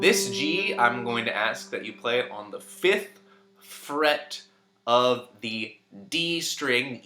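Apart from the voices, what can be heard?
None of the usual background noises is heard.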